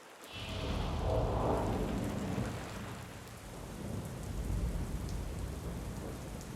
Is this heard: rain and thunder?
yes